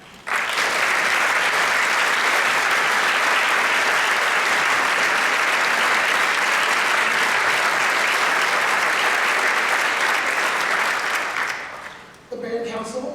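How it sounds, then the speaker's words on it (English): Long, loud, sustained round of applause from an audience for Kenny at a band presentation, dense clapping filling most of the stretch before fading out into brief voices at the end. "big round of applause for Kenny"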